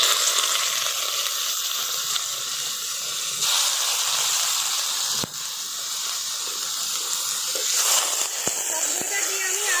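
Whisked sour yogurt hits cooked masala in a pan for a Bengali-style doi katla, giving a loud, steady close sizzle and hiss with a few utensil clicks and shifts in intensity.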